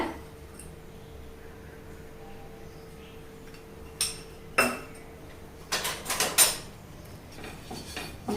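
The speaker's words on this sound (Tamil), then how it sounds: "ஸ்டவ் பற்ற வச்சு தோசைக்கல்லை வச்சுட்டு இப்போ லைட்டாக எண்ணெய் ஊற்றிக்கலாம்." Oil is poured onto a hot iron dosa griddle on a stove and spread across it, heard as a low steady hum followed by a cluster of sharp metallic clinks and scrapes, fairly close and moderately loud, with no talking.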